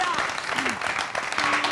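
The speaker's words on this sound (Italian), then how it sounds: "un applauso alla verità" Lively studio audience applause on an Italian TV show, a busy spread of clapping hands under overlapping voices that keep talking through it.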